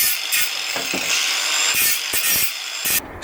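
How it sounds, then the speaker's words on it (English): Angle grinder fitted with a cutting disc scraping and cleaning off a cut edge, giving a steady loud abrasive grind with short rasping bursts throughout, no voices. "rather than moving over onto the grinding disc, we can use the cutting disc once again"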